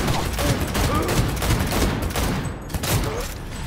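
Gunfire in the video game Cyberpunk 2077, a dense, loud fusillade of rapid shots and impacts filling the whole stretch.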